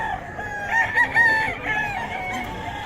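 Several chickens clucking and a rooster crowing nearby at a poultry market in Bocaue, overlapping calls over a steady background murmur, fairly loud throughout.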